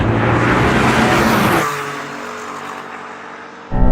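A sports car engine roars hard as it launches from a drag race start and accelerates, loud and close, then the pitch shifts and the engine note drops away before surging again.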